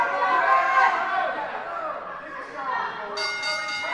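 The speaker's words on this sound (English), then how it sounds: "And there's the bell." A ring bell sounds at the start of a professional wrestling match between Joey Vendetta and Scorpio Sky, ringing out over a murmuring arena crowd with voices talking nearby.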